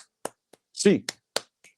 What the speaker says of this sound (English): 8 clap time, baby.